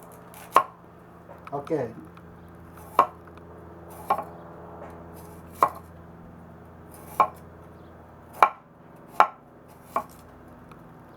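A super-quenched W2 steel chopper, 5 mm thick and very hard, chops through material in nine sharp, evenly spaced strikes, close and loud, with a brief scraping rustle between the first two and one short spoken word.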